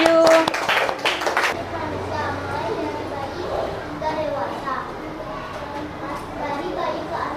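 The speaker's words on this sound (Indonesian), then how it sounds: "silakan kelompok 5 beri tepuk tangan dulu buat temannya yang maju" Primary-school classroom giving a brief burst of applause for a group of students, sharp clapping in the first second and a half, then children's chatter and a teacher's voice fill the room.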